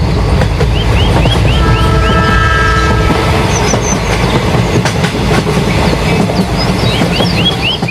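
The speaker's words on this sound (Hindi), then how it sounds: "लगता है 5 वाली ट्रेन आ रही है" A train arrives at a station, heavy rumbling and rolling clatter close by, with a sustained horn blast early on and squealing high-pitched chirps of wheels or brakes throughout.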